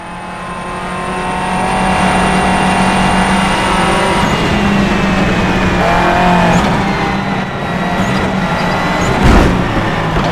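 A Subaru rallycross car's engine in the DiRT racing game drones loudly and steadily, revving and shifting pitch as it drives on, with a brief tire squeal and no talk.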